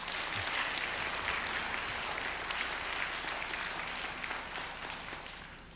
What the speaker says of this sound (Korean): 우리 그 마음으로 우리 박수로 환영하도록 하겠습니다